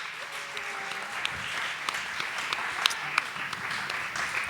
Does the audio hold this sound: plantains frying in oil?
no